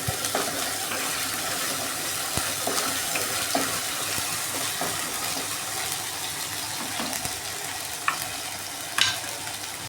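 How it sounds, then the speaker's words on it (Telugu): Ginger garlic paste frying in oil for a cauliflower and dry salted fish curry, stirred in the pan: a continuous hissing sizzle with occasional light utensil clinks near the end, steady and close. "ఇప్పుడు అల్లం వెల్లుల్లి పేస్ట్ వేద్దాం. అల్లం వెల్లుల్లి పేస్ట్ వేసిన. అలాగే మంచిగా కలబెట్టేద్దాం. కొద్దిగా పచ్చివాసన పోయేంత వరకు కొద్దిగా మంచిగా వేపుదామండి."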